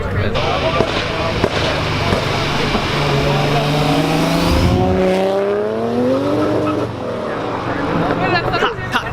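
Ford Mustang at a street car meet, engine revving and climbing as it loses traction through the gears, with tire squeal over a loud, busy crowd and people talking nearby.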